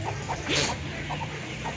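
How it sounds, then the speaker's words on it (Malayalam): Spotted and Kappiri chickens cluck at a farm, with several short clucks scattered over a steady background hum. "അതിലെ പുള്ളിക്കോഴികൾ, കാപ്പിരി പുള്ളിക്കോഴികൾ, വൈറ്റ് കോഴികൾ"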